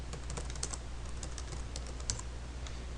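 Fingers type on a computer keyboard up close, with quick irregular clicks and taps over a low steady hum.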